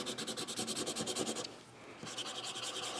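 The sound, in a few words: Prismacolor crayon scratching on paper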